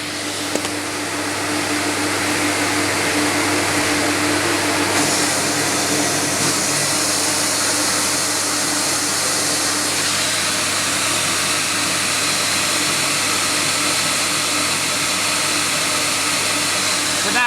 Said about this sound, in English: now we're running the vacuum pump and extracting from the CamVac straight into the workshop, and it's actually quite noisy